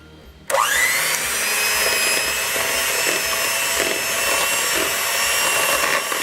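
An electric mixer whirs into cream cheese frosting for strawberry cupcakes, starting abruptly with a rising whine and then holding a steady, close motor drone with slight rhythmic scraping through the bowl.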